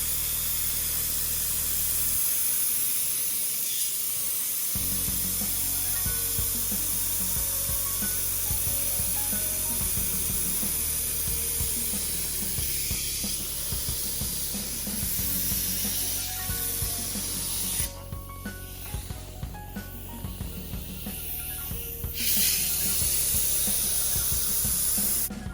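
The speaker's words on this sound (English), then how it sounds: "let's get some primer on this thing" 2K 4-to-1 primer is sprayed onto a second-generation truck body during a frame-off restoration, a loud continuous hiss that runs nearly the whole stretch, with brief pauses where the spray gun stops and restarts.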